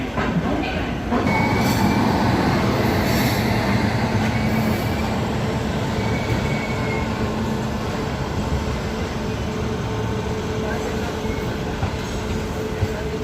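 The Gorakhdham Express pulls out of New Delhi station, a loud continuous rumble of wheels and carriages with faint squeals and rhythmic clatter throughout, no voices over it.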